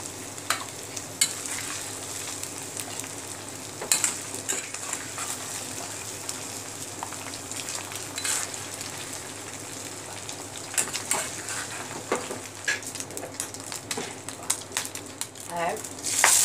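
Nathli (anchovy) frying in a pan for a dry curry, a steady broadband sizzle with occasional sharper crackles and spatula scrapes running throughout, close and moderately loud.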